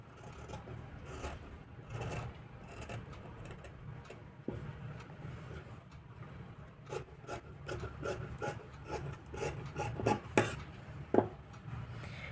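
Scissors cut blouse fabric along the front neckline, giving soft rasping snips and rubbing strokes in an irregular run at close range, with a few sharper clicks near the end and no talk.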